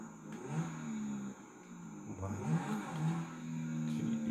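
A car engine in Grand Theft Auto V revs in a game, with rising and falling pitch sweeps over a steady engine drone, moderately loud and without talk.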